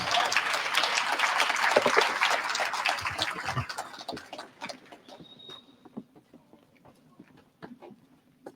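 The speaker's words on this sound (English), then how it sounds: "Let's give them a big round of applause." Applause from a crowd at a Second Chances Month celebration, full and lively at first, then thinning to a few scattered claps as the room quiets.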